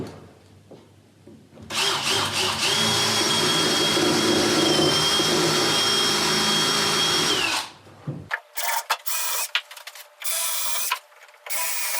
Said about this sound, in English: I'll drive the screws